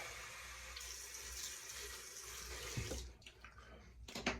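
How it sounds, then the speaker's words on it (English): Water runs and splashes softly from a tap as hands rinse the face with cold water, with a few brief sharper splashes near the end. "So, cold water rinse."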